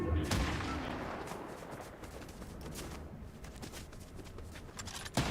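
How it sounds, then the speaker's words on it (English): A sharp sniper rifle shot cracks out in a first-person shooter game, followed by scattered gunfire and sustained loud battle noise, with another sharp report at the end. "I heard a sniper shot behind that rock."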